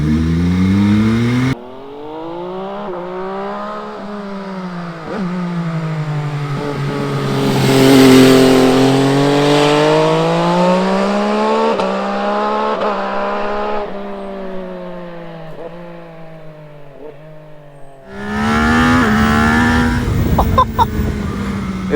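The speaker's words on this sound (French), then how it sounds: "Oh là là, les déflagrations, mais c'est un truc de malade." MV Agusta Brutale 800 motorcycle with a counter-rotating engine revving hard through the gears, its pitch climbing and falling in long sweeps, loud and close, with crackling exhaust pops on the overrun.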